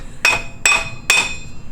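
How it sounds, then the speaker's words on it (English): Three evenly spaced, ringing metallic hammer blows strike the rear axle of a 2007 Yamaha Raptor 700 to drive it out of the hub, loud and close, with nothing in between but a faint background. "now we just beat on it and push it out the other side"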